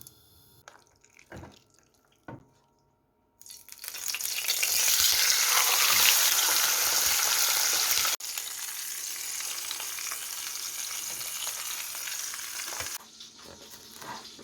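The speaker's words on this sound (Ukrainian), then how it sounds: "Гріту сковороду кладу топлене масло." Ghee melting in a preheated frying pan for chicken tabaka: after a few quiet clicks, a loud, dense, close sizzle bursts in and holds steady for about ten seconds, then dies down sharply.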